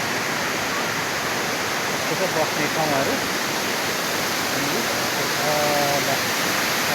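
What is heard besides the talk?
river flowing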